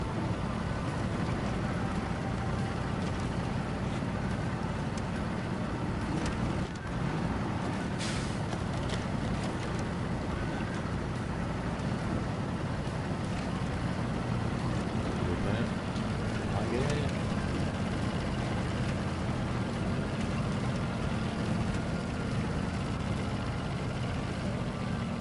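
A truck engine idles and rumbles steadily in Expeditions: A MudRunner Game, a continuous low drone that runs the whole way, with faint noises scattered over it.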